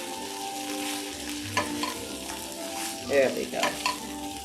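Spinach lightly sautéing in a pan, with a soft continuous sizzle and occasional stirring scrapes and clinks, moderately close, with one brief spoken remark.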